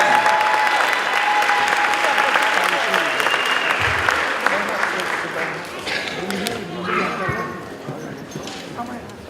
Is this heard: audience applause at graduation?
yes